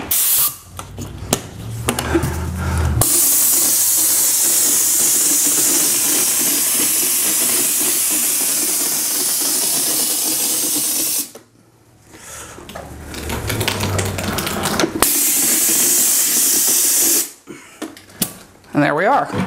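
Loud, steady hissing of a spray hopper blasting texture onto drywall in long bursts, separated by short pauses with clattering handling noises.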